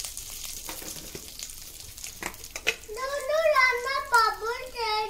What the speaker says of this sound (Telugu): సో ఆయిల్ వేసేసి జీలకర్ర, ఆవాలు, ఇస్తా కరివేపాకు, చాలా తక్కువ ఆయిల్లో